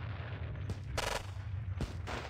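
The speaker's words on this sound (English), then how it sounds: "Big anti-tank rifle." Gunfire in the war game Squad Battles around an anti-tank rifle, with several sharp, loud shots over a rumbling battle backdrop, two of them close together near the start and another toward the end.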